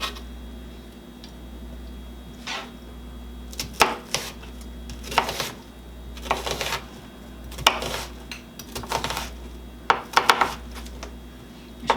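A knife chopping vegetables on a cutting board for a creamy carrot ginger soup, with irregular bursts of sharp taps in clusters over a steady low hum. No one speaks.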